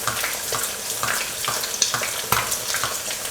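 An egg fries in hot oil in a pan, hissing and crackling up close, with sharper spits as the hot oil is flicked over the top.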